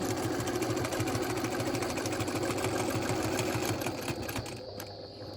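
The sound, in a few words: sewing machine stitching, free-motion quilting with ruler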